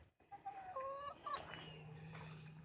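A broody barred rock hen gives a few soft, short clucks and rising calls, faint and close in a quiet coop with low background hum.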